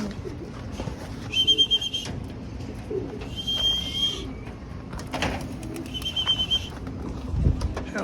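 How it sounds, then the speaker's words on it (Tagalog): Pigeons being coaxed back inside after a typhoon give repeated soft coos and whistling calls in short bursts, heard fairly close over a low background rumble. "Yung ibang ibon natin para nasa labas pa."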